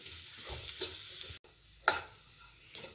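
Vegetable masala being sautéed and stirred in a pan for a vegetable kachori filling, with a steady close sizzle and a few soft scraping strokes of the spoon against the pan.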